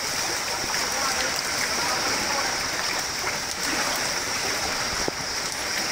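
Strong river current rushing past at a crossing point in rural Isabela, a broad, steady roar of flowing water filling the scene, constant and loud without pauses.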